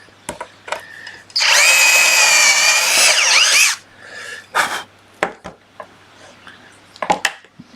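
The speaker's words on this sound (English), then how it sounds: "I'm going to re-drill that." A power drill spins up loudly for about two seconds while re-drilling a hole in wood for a box hinge recess, followed by scattered knocks and handling sounds of the workpiece.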